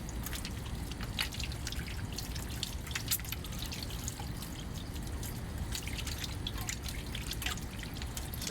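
Hands scrubbed with soap under running water, a steady wet trickle and drip with soft rubbing, close and continuous throughout.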